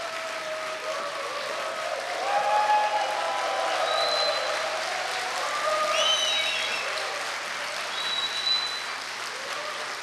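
Alumni audience at a Korea University choir festival applauds to welcome an elder alumni choir, sustained even clapping with scattered cheers and whistles over about ten seconds.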